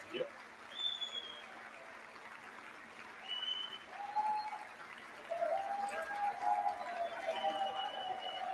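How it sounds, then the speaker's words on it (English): Applause fills the House chamber during a vote for Speaker of the House, a steady, moderately loud rustling wash that swells midway. Voices talk over it, and a few thin tonal sounds cut through. "Don't let the applause knock you down, folks."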